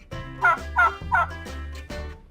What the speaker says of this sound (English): turkeys gobble all day long